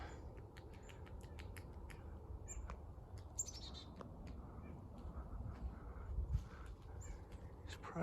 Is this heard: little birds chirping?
yes